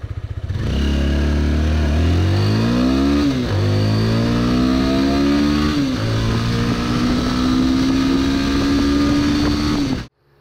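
A Dafra Apache RTR 200 motorcycle sits on its stand while its engine revs loudly up and down in several rising and falling sweeps, then settles into a sustained high idle before cutting off abruptly.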